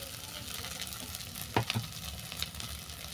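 Flattened rice (chire) fries and sizzles in a pan with a steady hiss, broken by a few sharp scrapes and clinks as it is stirred.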